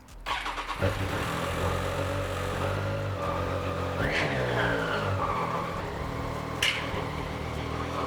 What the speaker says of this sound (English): we're ready to turn the bike over now